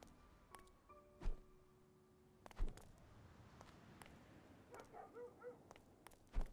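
A dog barks a few times at scattered moments inside the video game Barn Finders, short sharp thumps among quieter game noises and small chirps, heard alone without talk.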